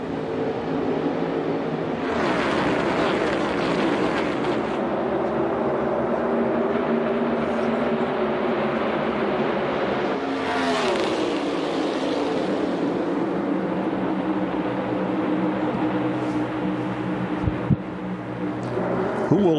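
NASCAR Cup stock cars roar away at the green flag of the Advent Health 400, a dense, loud engine drone that swells as the field passes close, with a faint voice beneath.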